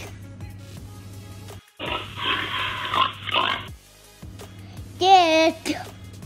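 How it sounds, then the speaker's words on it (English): A snorting grunt is followed by a higher squeal, two short bursts close up, separated by a quiet pause. "Pig."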